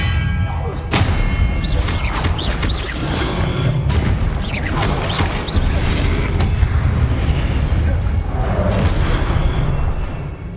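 A spell impact from the Hogwarts Legacy video game, with the Expelliarmus disarming spell producing a dense, loud sequence of booms, thuds and crashing bursts that keeps going without a break for about ten seconds.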